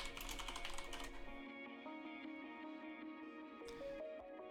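Someone types on a computer keyboard while entering a search. A quick burst of close, clattering keystrokes comes first, then fades into quieter background hum with a faint tap or two near the end.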